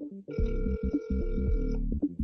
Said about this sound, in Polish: A może zadzwonimy do Arka i poinformujemy go telefonicznie o jego wygranej?